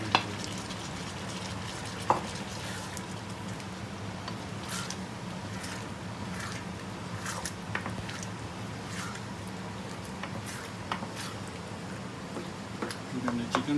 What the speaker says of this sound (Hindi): हमने चिकन डाला है